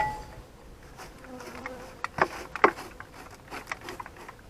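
Honey bees buzz around an open hive as the colony flies, a steady outdoor hum with a couple of sharper close passes and clicks near the middle; no talking.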